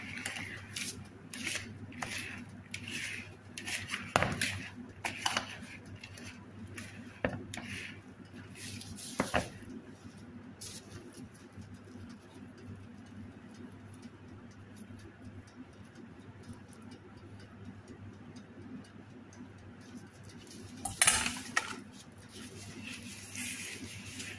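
Cookie dough of flour and oats is whisked and mixed in a bowl, with a run of quick scraping clicks and taps early on, a quieter stretch of soft stirring, then another brief burst of clatter near the end.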